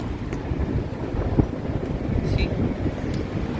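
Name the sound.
wind blowing outdoors in Barcelona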